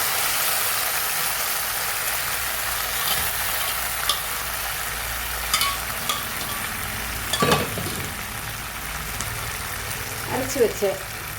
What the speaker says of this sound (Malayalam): ഉള്ളി മൂത്തു നമുക്ക് നമ്മുടെ വേവിച്ച് വെച്ചങ്ങനെ കപ്പ ഇട്ട് കൊടുക്കാം.